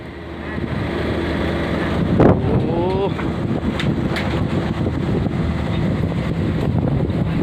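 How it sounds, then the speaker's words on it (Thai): Strong, gusty wind at an outdoor Phu Thai mor lam dance performance roars steadily and buffets the microphone close up, while a voice briefly calls out. "พี่น้องอาจจะได้ยินเสียงลมเด้อนะครับ"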